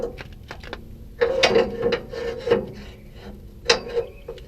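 Metal clatter and rasping scrapes as a tow dolly ramp is moved, tightened and locked with a pin, with a few louder clanks at irregular intervals, close by and with no talk.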